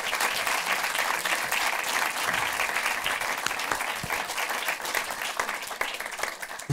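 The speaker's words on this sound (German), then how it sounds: "Großen Applaus" An audience applauds at a German film event after a speaker thanks the presenters, sustained dense clapping from a large crowd, steady and fairly distant, with no talk over it.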